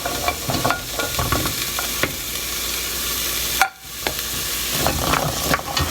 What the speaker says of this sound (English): I will add the carrot and onion first.